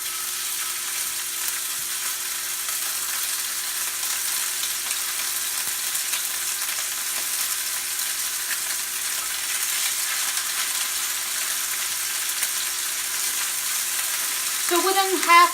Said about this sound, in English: It takes just a second for the oil to get hot. And we're gonna put season side down.